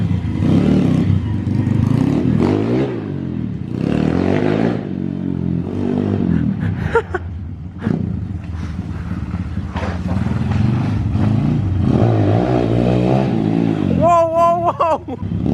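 Motorcycle engine revving hard during a wheelie, a loud, sustained mid-pitched roar with rising and falling throttle surges, heard close and continuous under people talking and calling out.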